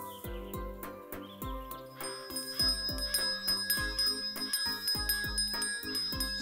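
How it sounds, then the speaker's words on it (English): Cartoon ice cream man's bell jingles in a bright, repeated tinkling pattern, set over a bouncy musical score in a summer picnic scene; the chimes ring steadily and fairly close throughout. "That's the ice cream man's bell!"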